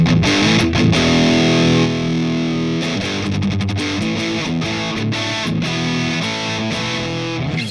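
An electric guitar plays through the free Neural Amp Modeler plugin set for heavy distortion, giving loud, dense chugging chords and sustained riffs, close and alone with no talking.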